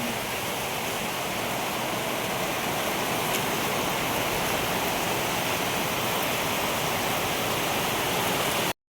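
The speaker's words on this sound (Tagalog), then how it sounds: "So, ngayon, maulan dito sa amin." Heavy rain falls steadily outdoors in the Philippines, making an even, dense hiss that stays loud and unbroken for the whole stretch, with no voices.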